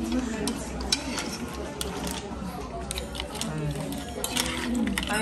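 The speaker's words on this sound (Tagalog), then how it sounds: "Ayan, haluin niyo muna yung tahong." Mussels in a cream sauce are stirred in a cooking pot, giving a continuous clicking and scraping of shells against metal, with voices talking nearby.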